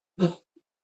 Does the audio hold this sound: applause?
no